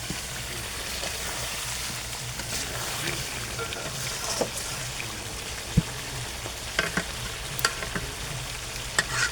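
Mutton frying down in a pan over a clay stove, a dense steady sizzle with low crackle and scattered sharp clinks of a stirring utensil, louder toward the end.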